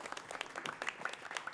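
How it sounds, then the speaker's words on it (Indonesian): Steady applause from a TV quiz show studio audience, many hands clapping in a dense, even patter throughout. "Boleh kita berikan tepuk tangan kembali untuk Regu C."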